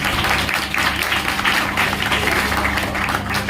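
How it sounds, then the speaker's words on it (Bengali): Sustained, dense applause from a room full of students honouring their coaching centre teacher, steady clapping with a low hum underneath throughout. "তার জন্য একটা জোরে হাততালি হয়ে যায়।"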